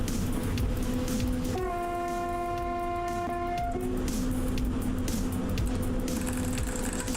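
A heavy cargo train in the MaSzyna simulator rolls at about 40 km/h with a steady, loud rumble, and a sustained horn tone sounds for roughly two seconds partway through.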